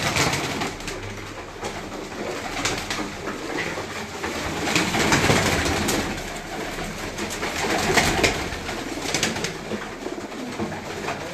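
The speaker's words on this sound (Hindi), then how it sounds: "इससे भी दूसरी साइड पे भी सारे कबूतर बाहर हैं" Pigeons coo in rooftop cages at night, soft overlapping calls repeating steadily near and far for about eleven seconds over a low background hum.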